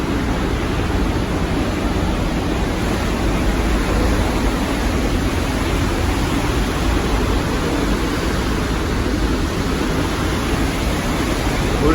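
Niagara Falls roaring as water pours down with great force, a loud, continuous, close-up rush of broadband noise that never lets up and has no talk over it.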